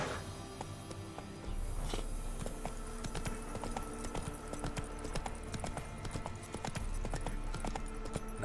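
Roach, Geralt's horse in the video game The Witcher 3, clip-clopping with steady rapid hoofbeats over a continuous game ambience and music bed, the pace quickening slightly partway through.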